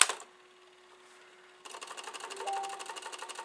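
Commodore 1520 printer plotter mechanism starts with a click, hums faintly, then runs with rapid, regular mechanical ticking and whirring that continues to the end.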